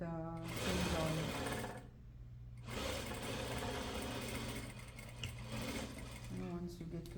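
A sewing machine runs in steady bursts, stitching the seam of a Peter Pan collar onto a bodice neckline, its fast needle chatter close and loud, pausing briefly once before resuming.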